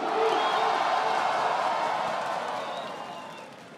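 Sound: audience cheering and applauding at a rap battle

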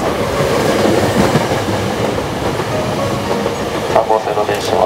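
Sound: Hankyu Kyoto Line train arriving at Katsura station

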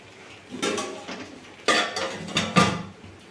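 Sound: pot being covered with a lid after turning off the gas

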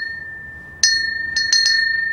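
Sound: ringing a really big bell

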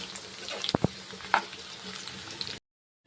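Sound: pirandai (adamant creeper) frying in oil for pickle

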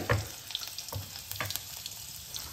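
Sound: chopped green chillies frying in hot oil in a kadai

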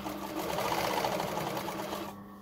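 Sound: sewing machine stitching hoodie lining seam

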